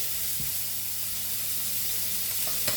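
Steady close sizzle of meat browning in a pan for chilli con carne, releasing a little oil, with a low continuous hiss and an occasional faint clink or stir.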